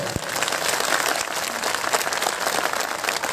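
A crowd applauds at a public pension rally to welcome a minister, dense sustained clapping filling the whole stretch with a few sharper claps standing out, no talk over it.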